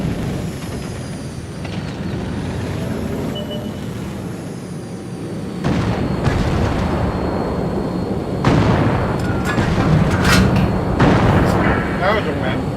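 Video game artillery explosions boom heavily over a constant rumbling battle din, with the biggest blasts landing in the second half.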